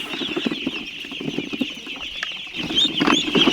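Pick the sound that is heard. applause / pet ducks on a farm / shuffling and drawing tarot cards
pet ducks on a farm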